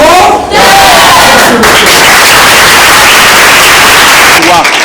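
A dense wall of crowd noise at a school in Guinea, applause and cheering for a mathematics teacher, loud and continuous, with a few shouted voices at the start and end.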